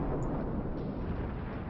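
A single warship gun shot in World of Warships, a deep muffled boom that rolls into a sustained low rumble, moderately loud with no speech over it.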